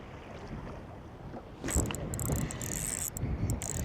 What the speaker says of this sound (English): Wow, it is breezy.